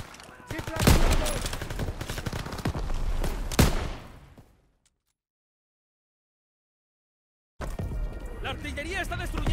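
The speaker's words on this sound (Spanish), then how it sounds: "¡La artillería está destruyendo la playa!" Heavy World War II artillery bombardment on a beach in a war video game, with loud booming blasts and crackling gunfire for about four seconds, then sudden silence before the battle noise and shouting voices return.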